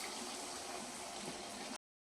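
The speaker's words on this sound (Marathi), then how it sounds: "त्यामध्ये आता कोमट केलेलं पाणी टाकून घेऊया" Lukewarm water pours into a pan of fried fish and oil for curry, a steady, even hissing rush that holds for under two seconds and then stops abruptly.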